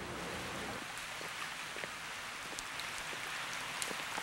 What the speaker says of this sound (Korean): 아, 비 온다!